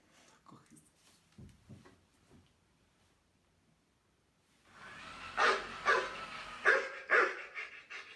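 A dog barks several times in a quick run of sharp, fairly close barks, after a stretch of faint, scattered sounds.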